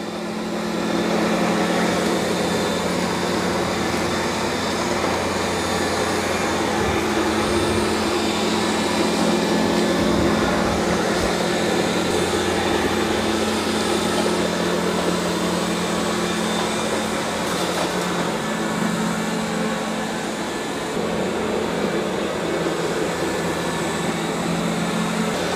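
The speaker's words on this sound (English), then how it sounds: "it's doing a good job of vacuuming" Roborock Q5 Pro robot vacuum running across a floor, a loud, steady close-up whirring hum with a constant motor drone and faint fluctuations, uninterrupted throughout.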